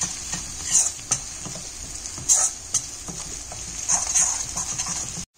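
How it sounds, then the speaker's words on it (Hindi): Chilli mushroom with green chilli stirred in a pan over medium gas, giving a steady close sizzle with repeated scraping stirs and brief louder clatters against the pan. "इसको अच्छे से हिला लेते हैं"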